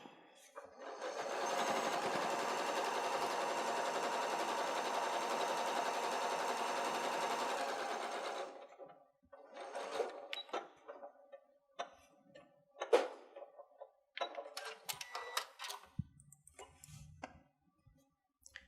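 A sewing machine runs steadily for several seconds stitching fabric for an autumn bucket, a continuous mechanical whir that stops abruptly, followed by scattered clicks and handling taps.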